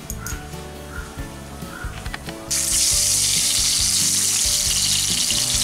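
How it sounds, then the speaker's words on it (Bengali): Bay leaf, white mustard seed and whole cumin drop into hot oil, first with a few crackles and pops, then bursting into a loud, steady, broadband sizzle of tempering that holds to the end. "এখন তেলের মধ্যে ফোড়নে দেওয়া হচ্ছে একটা ছোট তেজপাতা, হাফ চা চামচ সর্ষে"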